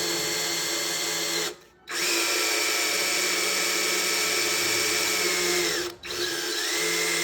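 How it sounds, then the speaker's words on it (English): A power drill whines steadily at high speed drilling through metal, briefly stopping twice before starting up again, close and loud with no talking. "So we drill all the way through."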